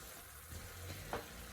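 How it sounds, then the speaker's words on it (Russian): Vegetables seasoned with paprika fry in a pan, a quiet continuous sizzle with faint stirring sounds and one brief louder crackle near the end, heard alone. "Пусть это теперь все жарится."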